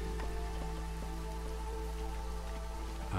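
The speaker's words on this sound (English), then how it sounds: "It's the drizzle season." Steady rain from the drizzle season in the colony-building game Against the Storm, a continuous soft patter with faint droplet ticks, holding an even level throughout with no voices.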